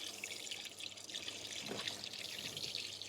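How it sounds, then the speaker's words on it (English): Tap water running into the radiator of a 2003 third-generation Holden Rodeo RA, a steady quiet trickle and splash with no talk. "just switch that tap on there, and we'll fill him up the rest of the way till it's full"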